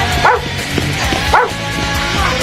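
A dog barks twice in short sharp bursts indoors inside a store, with a steady background hum and faint movement noise between the barks.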